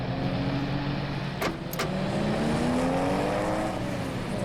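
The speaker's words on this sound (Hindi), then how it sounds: "स्लो चलाओ गाड़ी" Car being driven fast, a steady engine drone with rising and falling revs and a couple of sharp brief clicks, heard continuously from inside or close by.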